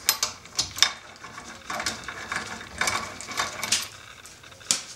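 Rear drum brake bolts on a Civic wagon being loosened during a drum-to-disc conversion, giving a run of close, sharp metallic clicks and clanks with short pauses, no talking.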